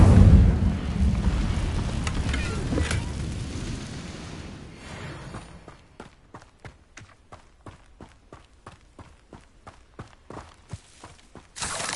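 Incendio fire spell cast in the Hogwarts Legacy video game: a loud whooshing, roaring flame burst that fades over several seconds, followed by a steady series of quiet footsteps.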